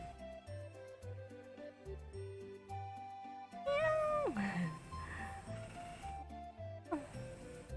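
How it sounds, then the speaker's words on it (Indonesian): A pet cat meowing indoors, a couple of close, drawn-out meows rising and falling over quieter background tones. "kucingku nih meong meong meong meong, butuh apa lagi dia?"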